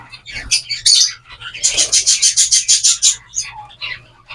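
Society finches in a breeding cage chirp and squawk up close, a rapid run of bright repeated calls with scattered shorter tweets before and after.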